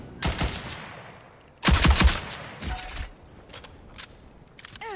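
Gunfire at turrets in a video game: several sharp broadband bursts of shots, a loud volley near the start and a heavier cluster around the middle, followed by lighter scattered impacts and clinks, close and dry with no talking.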